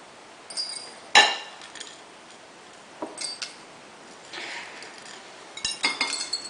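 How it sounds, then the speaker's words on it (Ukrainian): Black peppercorns and allspice dropped into glass jars while preparing pickled cucumbers with ketchup, making a few sparse, light clinks and ticks close by, with no talk. "У кожну банку ми кладемо по одному духмяному перчику та по 5 чорному перцю горошку у кожну банку."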